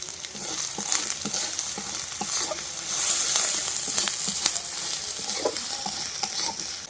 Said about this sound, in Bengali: মশলা কিন্তু বন্ধুরা কষানো হয়ে গেছে